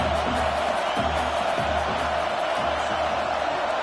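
Stadium crowd noise from College Football 26 during a Tulsa versus East Carolina game, a steady, dense roar of cheering that holds throughout at an even level with no clear breaks.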